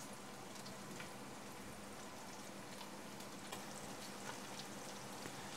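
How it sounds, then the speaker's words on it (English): Chorizo sausage pieces frying in a pot, a steady dense crackle and sizzle of hot oil with no pauses, close and moderately quiet, with no talk over it. "Fry them for a minute. That will release the oils and the flavor of the chorizo."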